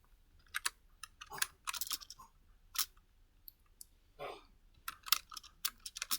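Quick bursts of typing on a computer keyboard, close and fairly quiet, with irregular clusters of key clicks separated by short pauses.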